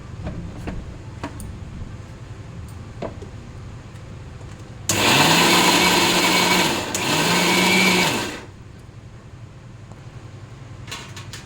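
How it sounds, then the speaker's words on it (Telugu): A mixer grinder whirs loudly as it grinds peeled fruit pieces, running about two seconds, pausing briefly, then running again before cutting off, with quiet background before and after. "ఇప్పుడు నేను ఇది పీల్ చేసి గ్రైండ్ చేసినాక మీకు చూపిస్తానండి"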